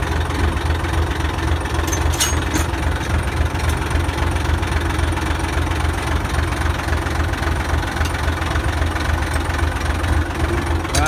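A motor runs steadily at idle, a continuous low rumble with a faint rattling undertone that holds at an even level throughout, close up, with no talking over it.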